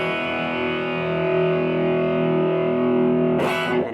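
An electric guitar sustains a distorted open power chord with a thick, ringing tone that holds steadily, then a fresh strum scrapes across the strings near the end.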